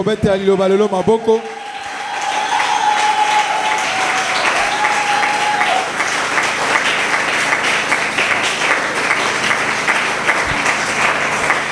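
A church congregation breaks into sustained applause and cheering after a speaker's voice, loud and steady for about ten seconds in a large room.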